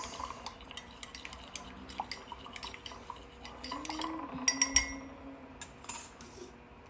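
A spoon stirs black coffee into an affogato in a small cup, with light rhythmic clinks and scrapes against the rim and a faint liquid swirl, close and quiet.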